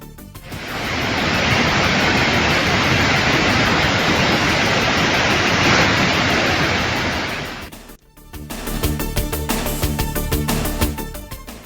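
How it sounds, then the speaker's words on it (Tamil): Manimuthar Falls in Tirunelveli district, Tamil Nadu, in heavy flood after continuous rain, roaring as a loud, steady broadband rush for about eight seconds before cutting to a different, busier noisy texture. "தொடர் மழையால் நெல்லை மாவட்டம் மணிமுத்தாறு அருவியில் கடும் வெள்ளப்பெருக்கு."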